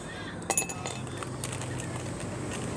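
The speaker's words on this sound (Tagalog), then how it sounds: "nilalagyan ko na ng yelo yung baso" Ice cubes clink into a drinking glass, a sharp cluster of bright tinkles early on followed by a few softer clinks over a steady low background hum.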